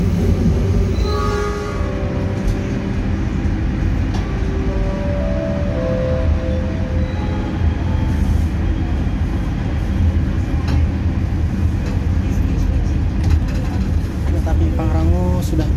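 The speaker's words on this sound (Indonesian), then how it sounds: "Pangrango sudah diberangkatkan dari stasiun Paledang" Pangrango economy-class train departing Paledang station on the Bogor–Sukabumi line, heard from inside: a steady, loud rumble of the moving carriages with tonal squeals and hums, continuous throughout.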